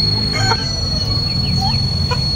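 Rhode Island chickens cluck and chirp in their coop, with several short calls scattered over a steady background hum.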